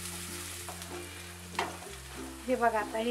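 Curry leaves, garlic and coconut dry-roasting in a pan give a steady close sizzle and crackle, with stirring scrapes growing louder toward the end; a voice speaks briefly over it.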